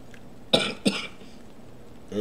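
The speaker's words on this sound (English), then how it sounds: "I'm trying not to cough on camera." Two sharp coughs from one person, close and distinct, about a third of a second apart, over quiet background, with a voice starting at the very end.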